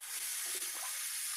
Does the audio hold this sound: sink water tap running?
yes